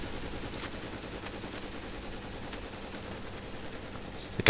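Sustained gunfire from a firefight in Tom Clancy's The Division, dense rapid shots running continuously and loudly with no talk over it.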